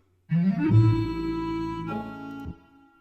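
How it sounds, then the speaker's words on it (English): A single MIDI guitar note with a quick upward gliss run at the start, sustaining for about two seconds, then a brief shift before fading. "And if I click on this, you have a gliss, a run for the first note."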